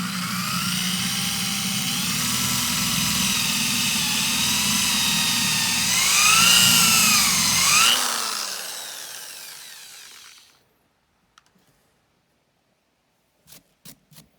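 A corded plug-in drill whines steadily into wood, its pitch rising and bending as it bites in, then winds down and stops. Silence follows, then a few faint knocks.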